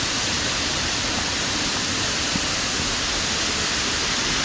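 A waterfall pours down over rocks in a dense, unbroken roar, close and loud, with no other sounds.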